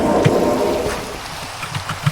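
Rain in the Minecraft horror mod Cave Horror Project patters steadily as a soft wash, with a few low thumps and scattered drops, fairly close and without speech.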